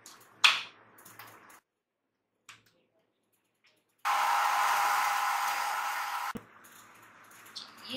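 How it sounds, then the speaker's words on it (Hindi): Blender whirring through sugar and yogurt for a smoothie, a loud steady motor roar of about two seconds that starts and stops abruptly, set between quieter clicks and kitchen handling sounds. "चीनी, दही, सबको हम ब्लेंड करेंगे।"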